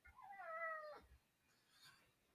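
A domestic cat gives one clear, rising-then-falling meow up close, followed by quieter rustling and a faint second sound in an otherwise calm room.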